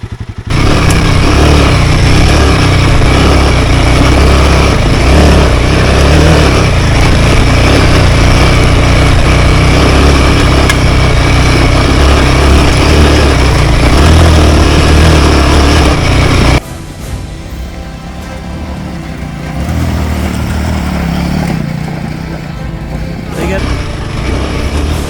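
A Royal Enfield motorcycle labours loudly up the steep Billy Goat Bluff track, its engine roaring and straining continuously before dropping off suddenly, then picking up again, with voices shouting over it.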